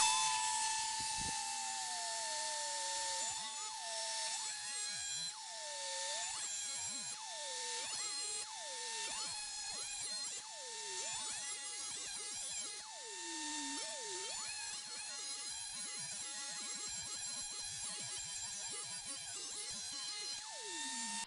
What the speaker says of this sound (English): use the Dremel tool, abrasive cutoff wheel, to cut it short so that I can get it into the truss rod